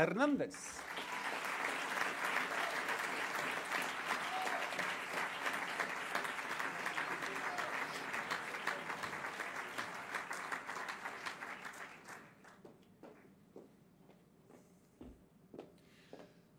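A graduation audience breaks into sustained clapping for a graduate, a dense steady wash of many hands that thins out into scattered claps near the end.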